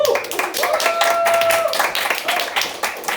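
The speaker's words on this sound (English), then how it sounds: "Big round of applause if you think that Pascal took this one home" A comedy-club audience at a roast battle claps in a burst of scattered, close applause with a sustained whistle-like cheer tone, fading toward the end.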